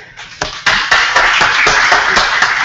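At a 2014 SUN 'n FUN aviation forum, a small audience applauds Lieutenant Colonel Rothke. It opens with a few scattered claps, then quickly fills into loud, uneven clapping from nearby hands.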